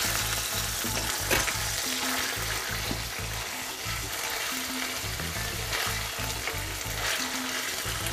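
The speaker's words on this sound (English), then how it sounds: "we'll put in our washed rice and just stir that in back and forth." Washed rice stirred in a sizzling pan, a steady loud frying hiss throughout with a scraping stir moving back and forth in an even rhythm, close up and with no talking.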